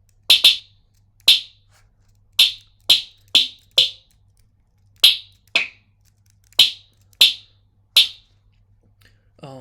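A snare synthesized in Serum plays a dozen short, crisp hits, spaced unevenly like a rhythm pattern. Each hit is dry and bright with a quick decay, and there are no voices.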